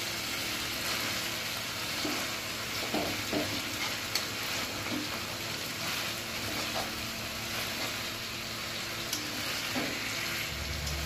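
A spicy Bombay duck (lote) fish curry is stirred gently in a frying pan under a constant loud sizzle, with soft scraping strokes now and then and no talking.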